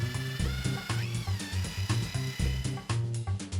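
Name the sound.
electric mixer mixing raw clay finishing plaster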